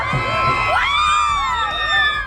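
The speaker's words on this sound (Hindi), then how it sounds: "लोग चीखने चिल्लाने लगे।" A crowd screams in panic after fire spreads through people celebrating a local election win near the steps of Jejuri temple in Pune. The shrill, overlapping cries are loud and close and run continuously.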